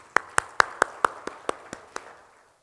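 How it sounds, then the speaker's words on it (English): Nine sharp hand claps in an even, quick rhythm welcome a speaker on stage at an accounting, taxation and sustainability summit, sounding thin and sparse rather than like a full crowd, then trailing off into quiet. "please join me with big round of applause to welcome Kabir Dhawan on the stage"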